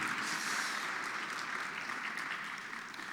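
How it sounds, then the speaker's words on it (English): An audience applauds the teams at an ideathon launch presentation, a dense, even wash of clapping that holds steady and slowly fades near the end, moderately quiet and with no speech. "please give another round of applause to our amazing teams."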